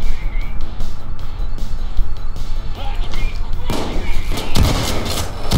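Shotgun blasts in the video game PayDay 2, a string of sharp, loud bangs with heavier bursts near the end, mixed with game noise and a voice talking.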